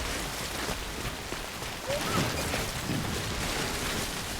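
Timefall rain pours down in the Death Stranding video game, a dense, steady hiss of rain on surfaces that continues without a break, with a faint tonal swoop in the middle.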